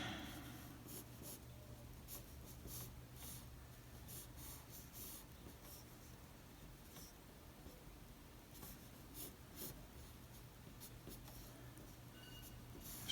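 Pencil strokes scratch steadily across paper while an artist sketches arm muscles, a soft continuous scraping with faint intermittent lighter marks and a low background hum, close and quiet with no talking.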